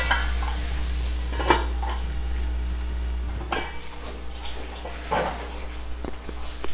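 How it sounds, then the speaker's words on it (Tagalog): Hotdog afritada with carrots and potatoes being stirred in a pan, a close sizzle with spoon scrapes and clinks against the metal over a low steady hum, no speech. "medyo haluin lang natin"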